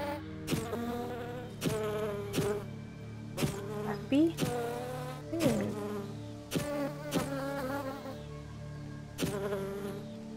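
A bee in a hidden object video game gives off repeated buzzing bursts, each a sharp onset followed by a sustained drone, recurring steadily and up close.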